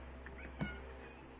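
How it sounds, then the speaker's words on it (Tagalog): A pet cat gives one short meow, close and fairly clear over a steady low background hum, with no talking. "Ang ingay ng pusa ko."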